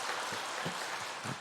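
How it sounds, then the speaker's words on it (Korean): A congregation claps during a Sunday evening church service, a brief, dense burst of applause with a few soft thumps under the patter and no voices on top. "박수 한번 쳐주세요."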